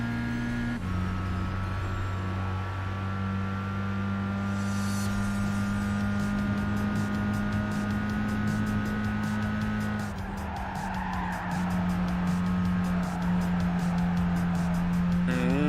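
Race cars including a Supra, an NSX and an R34 in Gran Turismo, engines droning steadily and loudly at high revs, with gear changes shifting the pitch and some tire squeal.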